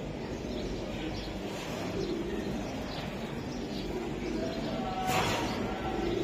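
Racing high-flyer pigeons of the Giribaz, Chila, Gorra and Palla lines coo in a dense, overlapping murmur close by, with a few chirps and a short rustling burst partway through.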